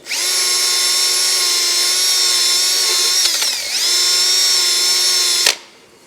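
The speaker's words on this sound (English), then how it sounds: "it actually does a really nice job, until you stop, of taking off all that adhesive" A drill spins a pinstripe eraser wheel to strip adhesive left by sticky wheel weights, a loud steady high whine that dips briefly as it bogs under load, then cuts off sharply.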